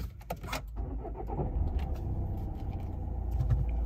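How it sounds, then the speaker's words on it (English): A Volvo V40 2.0 D4 diesel hatchback is switched on from inside the cabin, a few clicks and key jingles followed by a steady low engine rumble that settles into idle, close by with no talk. "I'll turn the vehicle on so we can take a look."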